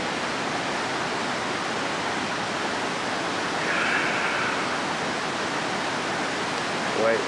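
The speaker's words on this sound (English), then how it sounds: "Here's the bottom of the Shell Falls." Steady, loud rush of white water at the base of Shell Falls, a small waterfall, heard up close with a brief faint murmur in the middle.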